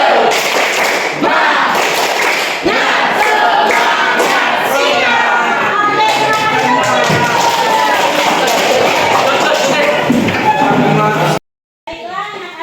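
A classroom of children performing a rhythmic spirit clap, loud, dense patterned clapping with shouted chanting voices over it, ending abruptly near the close.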